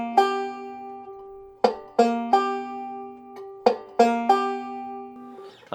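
Banjo ghost-note lick with a hammer-on, played solo: crisp plucked notes in short bursts of two or three with gaps between, ringing briefly and close up.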